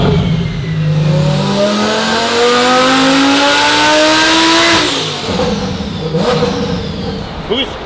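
A tuned, boosted STO build car engine with port injectors revs up in one long rising sweep for about five seconds, then drops off sharply and settles to a rougher, lower idle, loud and close.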